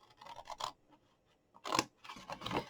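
Scissors snipping through card while making a small sweet treat box, a few short crisp cuts early then longer rasping cuts later, close up with quiet pauses between and no talking.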